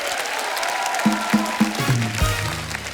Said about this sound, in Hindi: आप सबकी जोरदार तालियों के बीच please welcome mister Zaheer Iqbal and महात Raghavendra